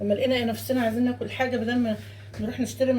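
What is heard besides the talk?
No everyday noise stands out behind the speech.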